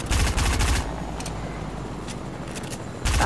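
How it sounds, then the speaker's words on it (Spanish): Gunfire in Fortnite, with rapid bursts of shots near the start and end and scattered fainter shots in between, loud and close with no talk over it. "Nos han disparado."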